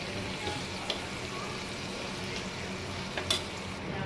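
Softened tomatoes fry in a pan with ginger paste and a homemade spice paste, a steady low sizzle with a few sharp spits and pops, close up and without talk.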